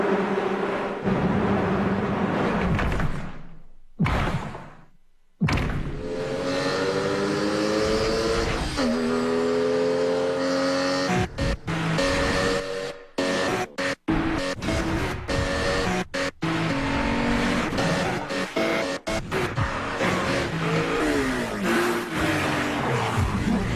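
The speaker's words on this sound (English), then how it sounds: "Perfectly tuned, the all-new Boxster. Porsche, there is no substitute." An all-new Porsche Boxster sports car engine revs hard in a TV advert, climbing and falling through the gears with loud rising whines and a brief tire squeal, cut by short silent gaps amid music.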